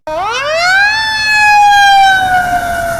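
An emergency vehicle siren, from ambulances and police arriving at a school in Madison, Wisconsin, rises sharply in pitch, then holds a loud sustained wail close by that slowly drifts lower.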